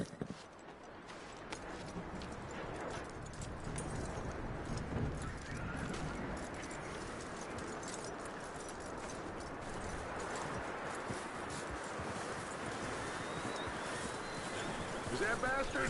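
Horse hooves clip-clop in a steady walking rhythm in the video game Red Dead Redemption 2, moderately close and continuing throughout, with someone talking over the hoofbeats.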